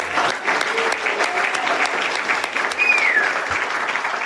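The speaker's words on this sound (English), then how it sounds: "can we just give this a round of applause" Steady audience applause at an Alcoholics Anonymous conference in Bermuda, a dense wash of many hands clapping that runs for the whole few seconds without a break.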